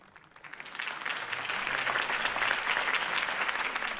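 A video game crowd breaks into applause after a campaign speech, swelling quickly and holding steady, dense clapping with no one speaking.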